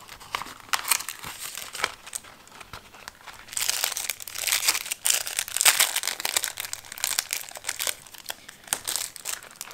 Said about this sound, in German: Tue ich schon mal die Tüte hier rein.